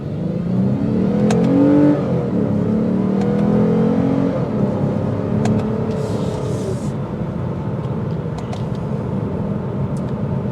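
A 2022 Lexus RC 350 coupe with a naturally aspirated V6 revving hard while stopped on a road, a loud rising engine note that then settles into a steady drone, with no talking.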